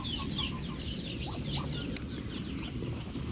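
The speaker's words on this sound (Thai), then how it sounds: "ไก่ตี" Chickens fighting on a farm give scattered clucks and squawks with faint rustling, and one sharp click cuts through midway in an otherwise quiet, low outdoor background.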